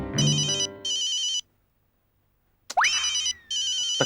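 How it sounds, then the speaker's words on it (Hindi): A telephone rings in an Indian sitcom scene with a repeating electronic ringtone in short bursts. After a pause a rising swoop sounds and the ring resumes, clear and alone without talk. "अंजलि का फोन आ गया।"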